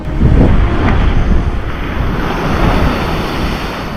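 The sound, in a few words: ocean waves pounding cliffs on Maui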